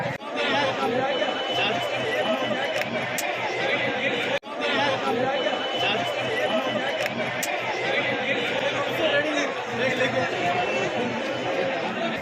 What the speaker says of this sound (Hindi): लेकिन फिर भी भीड़ खासी है।